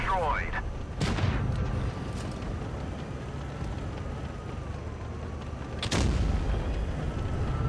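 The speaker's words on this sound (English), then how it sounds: "there is a sniping Waffenträger which you can see just missed by hitting the ridge there" Tank shells from a sniping Waffenträger hit a ridge in WoT Blitz, two sharp booming impacts several seconds apart over a constant engine rumble, while someone talks between them.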